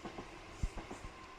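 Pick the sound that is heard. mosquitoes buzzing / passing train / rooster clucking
passing train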